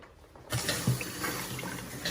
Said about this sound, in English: We just turn on the water on the main